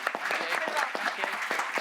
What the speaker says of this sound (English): Keep clapping. Give her a round of applause.